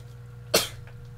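A single sharp, explosive sneeze bursts out near the mic against a quiet indoor background, loud for a moment and then fading quickly.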